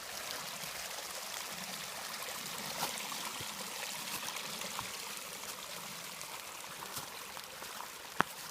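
A steady stream of water pours and trickles near a culvert on the Starr Trail, a constant close wash of moderate loudness with a sharp click near the end and no one speaking.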